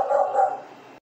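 Dogs bark in a sustained, fairly loud burst lasting about a second, with yelping tones, close by in a home where leather shoe uppers are being woven and sewn.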